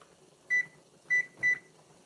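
A kitchen microwave oven gives three short, clear electronic beeps as its timer is set: one, then a pause, then two more close together, in an otherwise quiet room.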